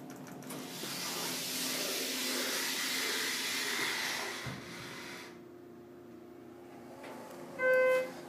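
A Schindler elevator running at the Quality Hotel in College Station: a steady airy whoosh of travel that drops to a quieter hum, then a short bright chime near the end.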